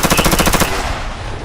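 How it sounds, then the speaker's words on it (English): Rapid automatic gunfire sound effect, played during a Cyberpunk RED tabletop game session: a loud, close burst of evenly spaced shots that stops abruptly, leaving a fading reverberant tail. "I take a fucking shot at point blank fucking range and auto fire"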